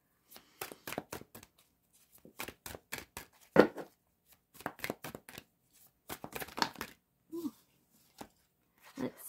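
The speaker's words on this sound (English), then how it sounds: "Give these a good shuffle." Tarot cards shuffled by hand in quick bursts of crisp riffling and slapping, close and fairly quiet, with brief pauses between runs and no talking.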